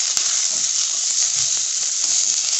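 Chopped onion hits hot oil with browned garlic in a pan, giving a loud, steady, close sizzle with faint crackles and no talking.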